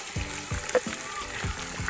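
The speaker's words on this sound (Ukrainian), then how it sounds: "Кидаємо баранину. Баранина домашня. Викидуємо м'ясо. О, шкварчить як." Homemade lamb, about 1.5 kg for Uzbek plov, sizzles steadily in a hot pan, a constant crackling hiss with soft periodic scraping of stirring.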